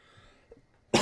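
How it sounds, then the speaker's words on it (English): A single sharp cough bursts out at the very end after near silence, close and loud. "sorry, I'm like coughing so much"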